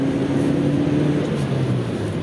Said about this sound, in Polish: praca silnika jest dosyć głośna